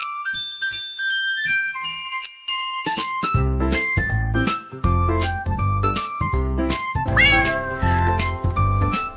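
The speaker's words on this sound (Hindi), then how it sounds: "बिल्ली करती म्याऊ म्याऊ" A cartoon cat's meow sounds repeatedly in a Hindi nursery rhyme for children. The meows ring over a bright, tinkling backing track, and a bouncy beat comes in partway through.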